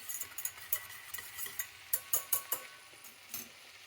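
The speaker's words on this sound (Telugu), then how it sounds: "ఇలా కొత్తిమీర అంతా కలుపుకొని" A spoon stirs chopped coriander into a lobiya (black-eyed pea) and methi curry, with repeated close scraping and light metallic taps against the pot in an uneven rhythm, quiet and with no voices.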